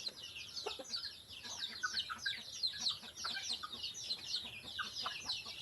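Farmyard chickens raised in the provinces cluck and chatter repeatedly, with occasional rooster calls, a busy overlapping flock at moderate distance and no talking.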